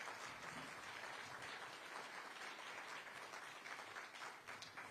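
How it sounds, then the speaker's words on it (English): Steady, dense applause from a large crowd at a hall of fame induction ceremony, sustained evenly throughout with no pauses. "let's have a round of applause for all three of our inductees"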